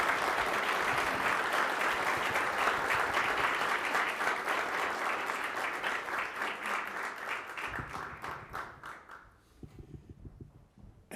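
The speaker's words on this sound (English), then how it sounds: "it was me that started the cheer for you" Audience at a Canadian Club Toronto luncheon gives sustained applause, a dense roar of many hands that gradually thins into scattered individual claps and fades out, with faint low sounds near the end.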